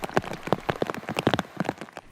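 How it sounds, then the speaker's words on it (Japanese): Heavy morning rain during a typhoon with linear rainbands over Ofunato, Iwate, in Japan, falls in a dense, close patter of individual drops striking a hard surface, loud and steady with no voices. "大船渡市でも今朝雨が降り"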